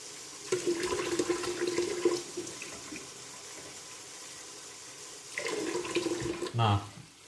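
Water pours into a rice cooker pot of rice in a home kitchen in two short bursts, a faint splashing trickle with quiet gaps between, alone without talk.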